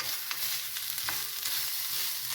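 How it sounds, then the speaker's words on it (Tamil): Vada fry in hot oil in a pan for a Vinayagar Chaturthi festive dish, giving a steady, close crackling sizzle with a few sharper pops and no talking. "இதையும் எடுத்துகிட்டு சும்மா லைட்டாக கழுவிட்டு வடையும் இதில் தான் நான் சுட போகிறேன்"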